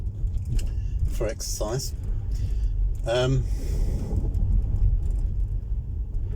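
Low, steady road rumble from a Tesla Model 3 driving along in winter, a continuous hum beneath a voice speaking briefly.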